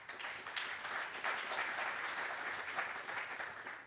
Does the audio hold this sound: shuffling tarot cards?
no